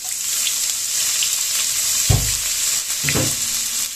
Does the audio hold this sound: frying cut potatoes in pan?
yes